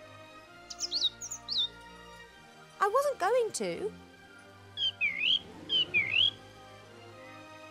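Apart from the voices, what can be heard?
bird chirping in The Book of Unwritten Tales 2 video game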